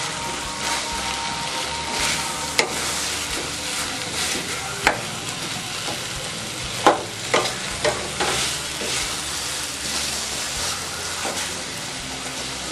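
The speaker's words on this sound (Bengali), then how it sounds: "এইবার আমি একটুখানি ভালো করে কষিয়ে নেব" A vegetable curry sizzles steadily as it is stir-fried in a pan, with a spatula clanking sharply against the metal now and then under the continuous hiss.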